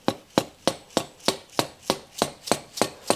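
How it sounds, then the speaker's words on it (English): Rubber mallet taps a deep socket down over a valve seal on a Honda B18 engine head, about ten evenly spaced sharp knocks, close and clear with no voices. "just with my rubber mallet I'm just going to gently give it a couple taps"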